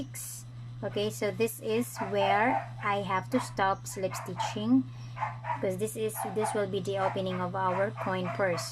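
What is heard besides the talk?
dog barking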